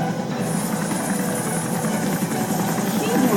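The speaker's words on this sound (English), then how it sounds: "He's taking her helicopter." Helicopter rotor in the animated Death Battle of Lara Croft versus Nathan Drake, a loud, continuous rotor drone that fills the moment beneath people talking as they watch.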